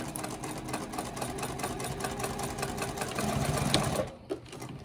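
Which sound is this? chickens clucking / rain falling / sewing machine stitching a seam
sewing machine stitching a seam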